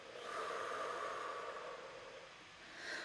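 A person breathes out deeply during a calm breathing exercise, one long soft airy exhale that swells and fades, quiet and close with no talk.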